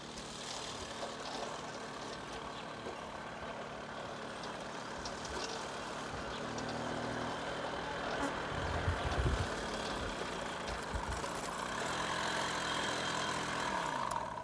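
A motorcycle engine idles nearby in a village, a low steady rumble that swells slightly louder partway through, with no voices.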